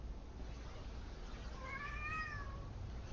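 A cat meows once at a moderate distance, a rising-then-falling drawn-out call over steady low background hum.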